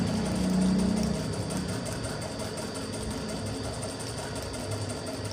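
A tailoring-class sewing machine stitches cloth with a steady, even whirring drone that holds at moderate loudness throughout.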